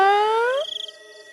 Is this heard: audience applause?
no